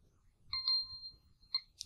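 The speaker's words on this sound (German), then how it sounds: "Die Uhr hat geklingelt" Clock ringing in the video game Silent Hill 2: two quick bright metallic chimes followed by a third, each clear and ringing briefly over near silence, with a faint low rumble underneath.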